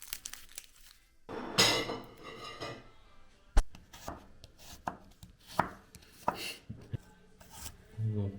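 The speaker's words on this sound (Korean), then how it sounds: "그냥 먹기 좋게 이렇게 무참하게 칼로 썰어서 먹으면 됩니다" Store-bought dough is sliced with a kitchen knife on a board, a series of sharp, close chopping knocks and scrapes spaced irregularly, with a brief crinkle of packaging near the start.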